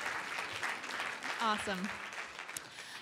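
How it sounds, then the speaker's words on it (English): Audience applause for a panel discussion on creating content: a steady patter of clapping through the whole stretch, with a voice briefly speaking over it. "Can we give them a round of applause?"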